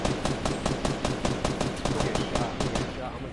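Rapid automatic gunfire in the video game Fortnite, a dense run of sharp evenly spaced shots lasting a few seconds, loud and continuous with little else beneath.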